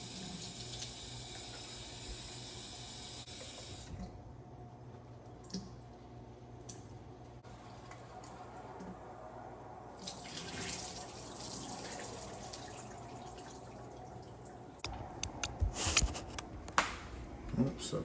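Tap water running over sprouts during a rinse, a steady faint flow with splashing, squishy handling and drips, becoming busier near the end.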